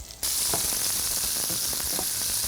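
Cubed garlic drops into hot oil in a pan and bursts into a sudden loud, steady sizzle with faint stirring clicks, and no voices over it.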